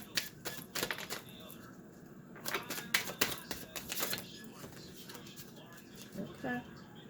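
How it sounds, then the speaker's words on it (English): Quiet, close riffle shuffles of tarot cards, heard as rapid bursts of crisp clicking repeated a few times with pauses between. "I'm going to shuffle 2 more times"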